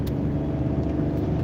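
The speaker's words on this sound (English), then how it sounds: "You can hear this big block." A big block engine rumbles steadily as the car drives slowly, a continuous low, loud growl with no voices.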